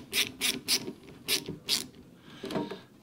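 A hose clamp being tightened on a diesel heater pipe, a series of short, close ratcheting clicks in quick bursts, then a pause and a fainter final turn.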